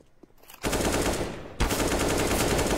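An AK rifle in Counter-Strike 2 fires two long automatic bursts, loud and close, after a brief quiet start, with only a short gap between the bursts and nobody talking.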